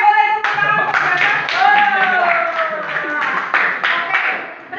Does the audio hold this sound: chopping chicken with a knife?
no